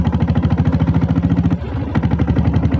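A Company Diesel 7.5HP Diesel Bullet motorcycle engine runs with a loud, close, rapid and even thumping beat that briefly softens and dips for a moment before the steady pulsing resumes.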